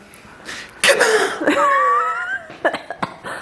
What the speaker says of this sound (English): I keep having a wheezy cough.